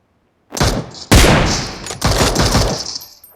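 Rapid bursts of video game gunfire from shotguns and a sniper rifle, loud and close, with dense overlapping shots in several clusters after a brief silence.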